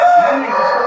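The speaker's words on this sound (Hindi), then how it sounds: "सिरजा मुर्गा है, सिरजा कहते हैं इसे" A Sirja rooster crows once in a long, drawn-out call, close and fairly loud, with a steady harsh tone and no voices.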